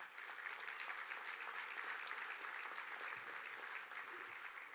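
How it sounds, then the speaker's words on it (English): Steady applause from a large audience at the 2017 Broyles Award ceremony, a broad even wash of many hands clapping heard from a distance, fairly soft and unbroken throughout. "So that is worth a round of applause, if you would."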